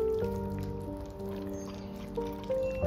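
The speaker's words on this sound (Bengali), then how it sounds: "এরপর ভেজে রাখা এঁচড় দেবো।" Fried jackfruit is tipped into a pan of well-cooked chicken, and a soft, rain-like sizzle crackles steadily beneath prominent background music.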